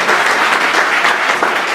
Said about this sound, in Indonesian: Mau tepuk tangan buat Tuhan Yesus, saudara?